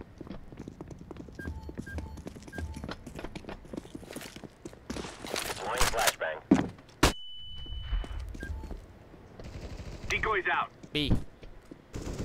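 Counter-Strike gunfire on the de_vertigo map: scattered sharp shots and rattling bursts, some loud and close, mixed with footsteps and other game effects while players talk over it.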